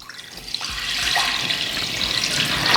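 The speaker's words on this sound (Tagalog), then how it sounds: "Maglalagay lang ako ng tubig." Tap water gushes from a faucet into a pot for boiling bitter melon while cooking pinapaitan, a steady close splashing stream that grows fuller as it fills, with no talk.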